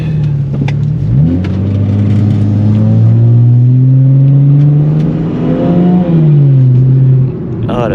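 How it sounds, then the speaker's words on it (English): An abandoned BMW engine revs hard and close with audible turbo spooling, climbing and falling in pitch through several loud pulls before settling back. "Oh, the turbos sound so good."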